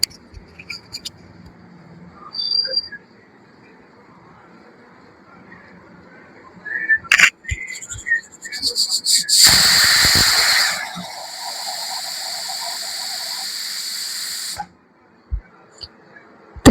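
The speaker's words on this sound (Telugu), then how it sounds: "త్రీ విజిల్స్ అయితే వచ్చేసాయండి" A stovetop pressure cooker cooking dal lets out a loud, sustained steam whistle with hissing that lasts several seconds and then cuts off, after quieter hisses and clinks.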